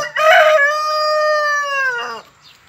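A single loud, close crow from a young red free-range rooster, a harsh opening note stretched into a long sustained call that breaks off at the end.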